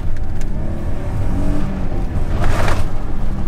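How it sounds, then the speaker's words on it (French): The V6 engine of a Peugeot 406 Coupe pulls hard on a straight road, a steady loud in-car engine roar with rising pitch as the car gathers speed. "on se met sur une ligne droite et là je mets gaz"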